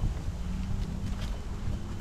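Steady wind buffeting a microphone, a low rumbling roar that holds constant for the whole stretch with no voices.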